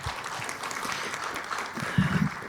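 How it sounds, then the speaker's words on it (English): Moderate, steady applause from a business forum audience in Pattaya for the deputy mayor, with a few low thumps near the end. "a round of applause"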